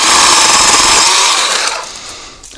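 A Bauer 20V 10-inch cordless chainsaw cuts through a small tree branch, a loud close steady whine that holds for over a second, then winds down and fades as the cut finishes.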